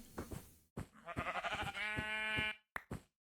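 A sheep in Minecraft Beta 1.7.3 bleats in a few loud, close, wavering calls, broken by short gaps and ending abruptly.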